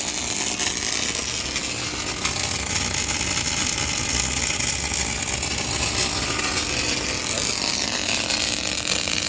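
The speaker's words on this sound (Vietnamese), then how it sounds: "Anh em nghe đấy, tiếng hàn rất là ngon." Panasonic KRII500 welding machine running on three-phase 380V power, welding with a steady, dense crackling buzz that holds evenly throughout without pause.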